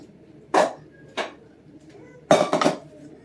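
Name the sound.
block of cream cheese plopped into a pan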